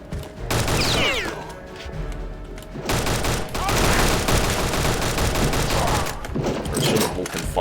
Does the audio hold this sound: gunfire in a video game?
yes